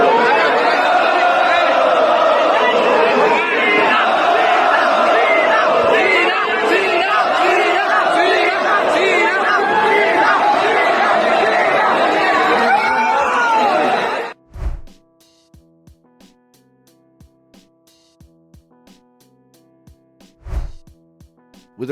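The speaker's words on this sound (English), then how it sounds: "Speaking of John Cena, fans at the Superstar Spectacle event would fight over his shirt that was thrown into the crowd" A crowd of wrestling fans at a Superstar Spectacle event yelling and scrambling over a shirt thrown into the stands, a loud, dense roar of shouting that cuts off abruptly, followed by near silence with a few faint thumps.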